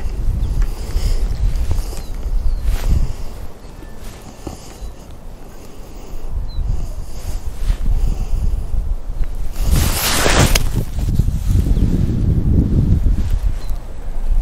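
Strong wind buffets the microphone on a golf course, a loud, uneven rumble with gusts that surge and fade, one sharp blast standing out near the end.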